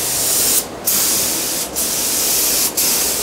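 Paint spray gun laying a coat of paint onto an Evo 8 body, a steady close hiss broken by three brief pauses as the trigger is released.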